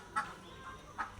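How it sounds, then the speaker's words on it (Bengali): Farmyard ducks and chickens, large and small, give two short, moderately near clucks about a second apart over quiet background. "দেখুন ছোট বড় কত হাঁস মুরগি"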